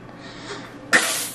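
A single sharp sneeze bursts out close by after a soft intake of breath, loud and abrupt, then trails off.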